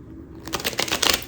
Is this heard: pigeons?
no